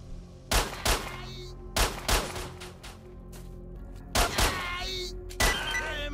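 Shotgun firing in STALKER, five sharp, loud blasts spaced a second or more apart, each with a short ringing tail and mechanical clatter between shots.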